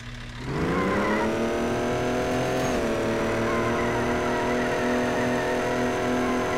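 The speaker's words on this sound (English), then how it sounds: "This thing's doing burnouts?" A car does a burnout, its engine revving up and then holding a loud, sustained roar with a rising pitch and a dip mid-way while the tires squeal, close and continuous, with no voices.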